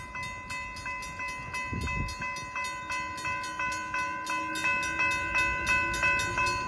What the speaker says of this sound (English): Amtrak 748 northbound to Sacramento coming.